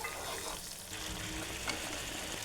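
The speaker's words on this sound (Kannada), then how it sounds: "ರುಬ್ಬಿರುವ ಮಸಾಲೆ ಕೂಡ ಅದರಲ್ಲೇ ಹಾಕಿ ಚೆನ್ನಾಗಿ ಮಿಕ್ಸ್ ಮಾಡ್ಕೊಳ್ತಾ ಇದ್ದೀನಿ ಹಸಿ ವಾಸನೆ ಹೋಗೋ ತನಕ ಚೆನ್ನಾಗಿ ಹುರ್ಕೊಳ್ಳಿ" Ground masala frying and being stirred in a pan for a chavalekai (cluster bean) palya, a steady close sizzle with soft stirring scrapes throughout, no voices.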